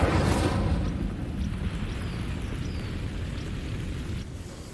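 An Incendio fire spell set off on dry vines in Hogwarts Legacy, a loud whooshing roar of flame that bursts up at once and then settles into a steady, fading rumble, no voices.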